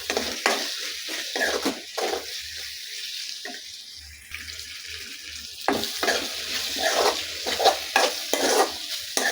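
Onion and tomato with curry leaves and dried red chillies being stirred in a pan for a potato chicken curry, with repeated scraping strokes over a steady sizzle and no talking.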